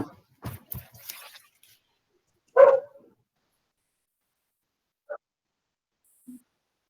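A pet dog at a closed door whimpers and barks to be let in, one louder bark-like burst followed by two faint short yelps, after brief talk at the start.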